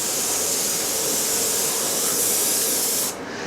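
A paint spray gun coating a wooden workpiece gives a loud, continuous close hiss with no voices, cutting off abruptly just before the end.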